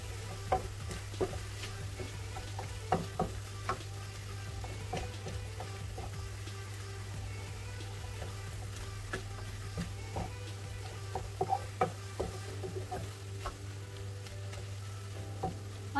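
Tomato seafood pasta sauce being stirred in a pan, with a faint steady sizzle under scattered soft scraping and clicking strokes of the utensil, quiet and close, no voices.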